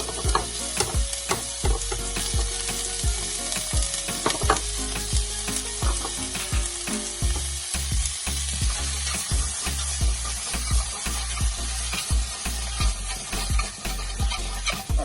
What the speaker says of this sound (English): Now I'm gonna add my sweetcorn.